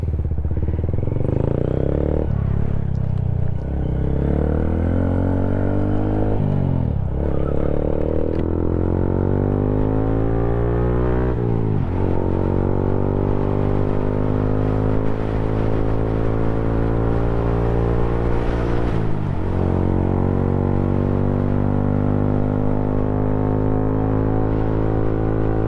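A Honda Grom motorcycle is ridden, its small single-cylinder engine droning steadily and loud throughout, with repeated rising revs through the gears and brief drops between shifts.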